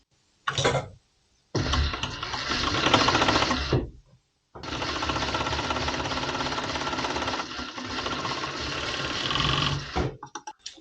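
An overlock sewing machine stitches a seam on a women's top in long loud whirring runs, close by. Brief pauses break the runs, and the motor spins up and down at the start and end.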